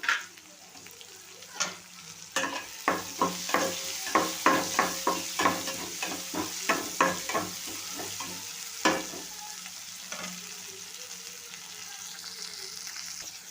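Onions and slit green chillies frying in oil in a pan for an aubergine curry, with a spoon stirring in a quick run of scraping strokes over a steady close sizzle, then quieter frying.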